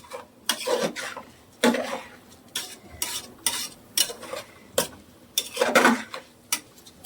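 A spoon scrapes and stirs through rice mixed with garam masala in a pot for vegetable pulao, in a series of uneven, close strokes, with a faint sizzle underneath and no talking.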